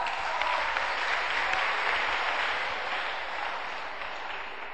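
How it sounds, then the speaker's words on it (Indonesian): Audience applause at a seminar on love, sex and dating, a dense, steady clapping from a large crowd that holds for the whole stretch and fades slightly toward the end. "tepuk tangan buat yang pacaran."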